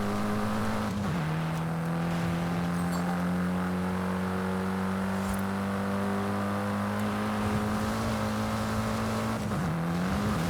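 A Mitsubishi Lancer Evolution driving in Forza Horizon 5, its engine holding a steady drone with pitch dips as it shifts near the start and end, loud and continuous with no talk.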